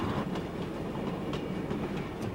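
A Mountain High Railway heritage train runs steadily close by, its wheels giving a regular clickety-clack over rail joints beneath a constant rumble, with no voices.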